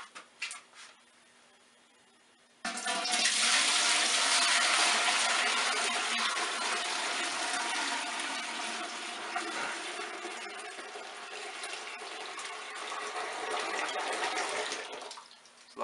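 Homemade bourbon mash pours into a pot still in a loud, steady gush of splashing liquid that begins suddenly after a few quiet seconds and tapers off near the end.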